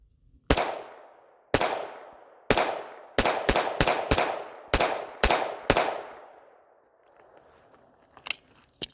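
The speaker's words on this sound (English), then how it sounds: "But let's get into a little bit of shooting." Walther P22 pistol fired at a steady pace, about ten sharp, loud reports spaced roughly half a second to a second apart, each ringing out briefly, followed by quieter clatter and a few faint distant shots.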